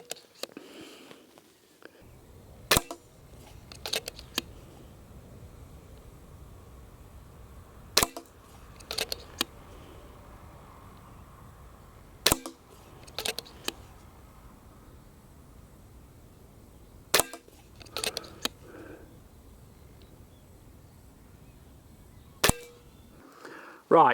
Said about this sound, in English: Let's shoot 5 now in the top right target just to get a comparison group.